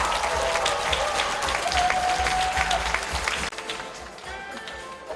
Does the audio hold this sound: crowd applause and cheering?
yes